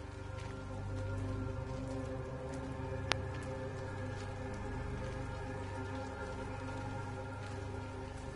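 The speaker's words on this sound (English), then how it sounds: "Oh, it's raining again." Steady rainfall in the video game Everybody's Gone to the Rapture, a dense even patter of drops on surfaces throughout, with one sharp brief tick midway.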